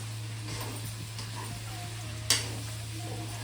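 Ginger and garlic frying in a pan with a soft steady sizzle and light stirring, a single sharp utensil knock standing out near the end against a constant low hum.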